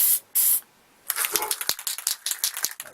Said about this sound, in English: I'm going to spray it anyway